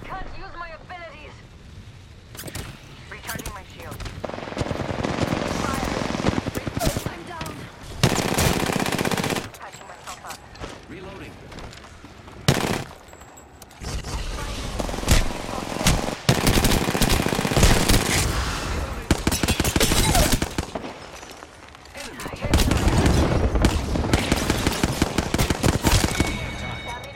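Bursts of automatic gunfire in the Apex Legends video game, with repeated rapid volleys coming and going over roughly half a minute, loud and close, with game sounds and a voice speaking at times between the shots.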